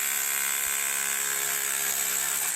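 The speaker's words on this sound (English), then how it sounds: "we're using just a hammer drill to excavate this stuff out." A hammer drill grinds into rock during gold prospecting, a loud, continuous high-pitched whine and rattle with steady hammering underneath, close and unbroken throughout.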